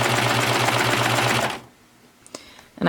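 A sewing machine stitches a skirt ruffle with a loud, fast, steady whirring chatter for about a second and a half, then stops, leaving quiet with a few small clicks.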